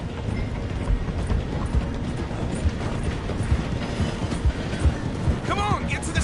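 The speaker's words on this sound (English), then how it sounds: "The train is slowing down to go through the station." Train slowing down through a station, a continuous rumble of rolling wheels with rhythmic clacks and a brief metallic squeal toward the end, and a voice talking over it.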